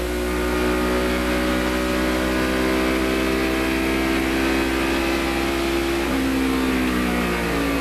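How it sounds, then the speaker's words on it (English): A racing car engine at Watkins Glen drones steadily at high revs, the pitch holding level and then shifting slightly, with constant broadband roar around it; the engine may have a misfire. "the engine, see if we can hear a miss"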